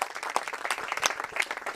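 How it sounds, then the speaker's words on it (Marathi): An audience claps for a young singer at a college student event, brisk uneven applause of many hands, moderately close and steady for the whole stretch with no voices. "या युवा मित्रासाठी जोरदार टाळ्या"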